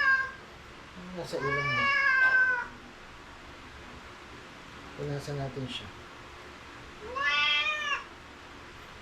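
A pet cat named Mekmekong gives three drawn-out meows, the first long and loud and the later ones shorter, with someone speaking softly to it in between.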